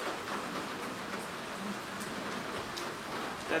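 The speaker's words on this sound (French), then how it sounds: "il pleut en plus" Steady rain falls outdoors near a cave, a continuous even hiss of drops with no pauses and no voices.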